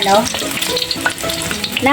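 Chicken sizzles and crackles steadily in hot oil, close up, with occasional stirring or scraping sounds.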